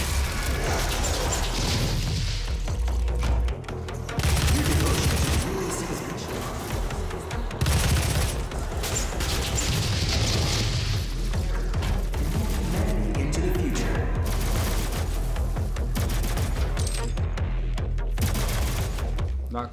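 Gunfire and explosive bursts from the video game DOOM on PS4, fighting demons in Hell, continuous loud volleys layered with mechanical clanks and booms throughout, with no pauses.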